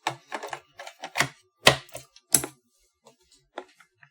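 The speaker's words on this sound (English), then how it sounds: "Make sure the select and start buttons work." Buttons on an Atari 1200XL computer are pressed one after another, sharp plastic clicks and clunks in an irregular sequence, close and clear, fading to a few lighter taps toward the end.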